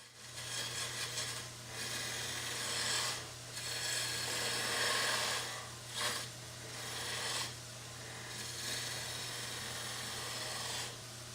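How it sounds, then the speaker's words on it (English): Skew chisel cutting a spinning wood piece on a lathe, a loud continuous rasping shave broken by short pauses as the tool lifts off, over a steady motor hum. "It's cutting wood as wood wants to be cut."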